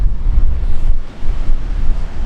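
Ocean waves break and wash ashore close to a microphone with wind protection, a loud continuous rumbling surf that swells and dips briefly, with no voices.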